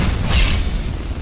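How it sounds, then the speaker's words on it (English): A boulder spell hurled at enemies in Skyrim lands as one short, loud, deep boom with a brief crackling burst, followed by a rumbling tail. "I can fucking shoot boulders at people."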